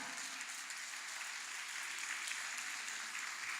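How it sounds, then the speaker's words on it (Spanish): Church congregation applauding during a sermon, a soft, continuous wash of many hands clapping heard at a distance, faint and steady for a few seconds without speech. "Dese un aplauso usted"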